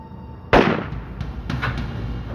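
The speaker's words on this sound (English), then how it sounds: "And then he heard a gunshot." In a crime reenactment, a single sharp, loud gunshot sound effect cracks out, followed by a short reverberant tail and a couple of fainter knocks in a quiet space.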